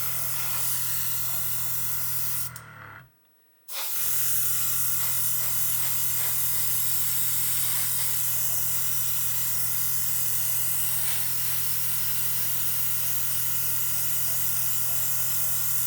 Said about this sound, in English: it's covering beautifully, it's spraying very nicely